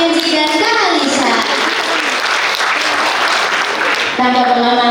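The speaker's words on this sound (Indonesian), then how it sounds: "marilah kita berikan tepuk tangan yang meriah untuk pembicara kita pada pagi hari ini, Pak Alvito, Kak Kenzi, dan Kak Alisa." Audience applause at a morning talk show, a dense wash of clapping that fills the clip at steady volume while a voice speaks over it, with voices more prominent near the start and end.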